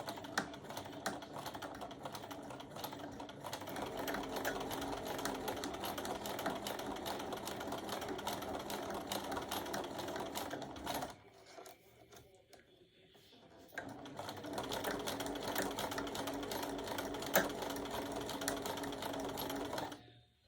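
A sewing machine stitches a round mug rug in a steady, close rhythmic hum, pausing briefly in the middle before running again until it stops at the end.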